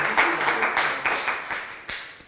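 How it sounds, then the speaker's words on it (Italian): A small group claps in a quick, irregular patter of hand claps at moderate volume, close by, on an Italian quiz show set. "fatevi un applauso che siete state brave"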